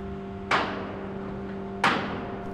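A large hammer strikes a bolt in the folding ramp mechanism of a Baltic ferry twice, two sharp metallic blows about 1.3 seconds apart, each ringing out over a steady mechanical hum.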